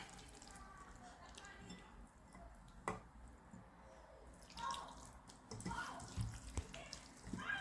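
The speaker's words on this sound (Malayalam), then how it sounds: "വെള്ളം കൂടെ ഒഴിച്ചിട്ട് അതിനെ നമുക്ക് നല്ലപോലെ കൈയിട്ട് തന്നെ അങ്ങോട്ട് മിക്സ് ചെയ്യണം" Bare hands mix soaked rice with water and crushed green chillies, giving faint wet squishes, drips and splashes that grow busier toward the end, with a voice talking over them.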